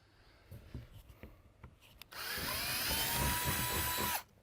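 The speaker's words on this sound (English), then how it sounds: "Then you're going to drill out the center dimple on all 4 sides" A power drill bores out a center dimple on a hunting blind roof, with a few faint knocks and scrapes before it, then one steady two-second whirring run that stops abruptly.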